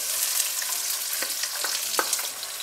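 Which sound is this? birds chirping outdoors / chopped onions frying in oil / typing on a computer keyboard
chopped onions frying in oil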